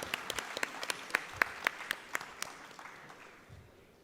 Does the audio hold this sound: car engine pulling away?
no